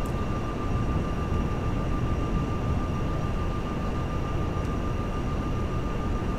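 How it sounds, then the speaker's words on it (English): Helicopters being shot down with missiles in GTA 5 Online, heard as a steady, loud rotor-and-engine drone with constant tonal hum and no speech. "shooting down helicopters."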